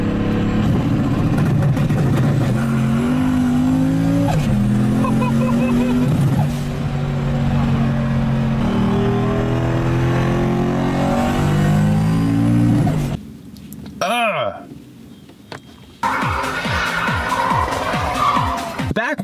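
Lexus VVTi 1UZ V8 drift car with a big single turbo and rolling anti-lag, its engine revving hard in long rising and falling sweeps with tire squeal and loud pops, cutting out briefly before revving again, under overlapping talk.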